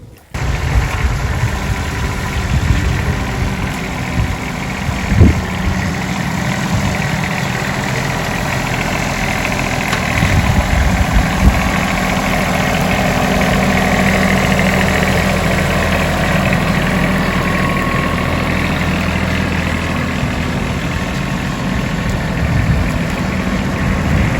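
A vehicle's engine runs steadily at a rumbling mid pitch, loud and close, while it drives into a dead tree stump at an abandoned Portuguese house, with a couple of dull knocks early on.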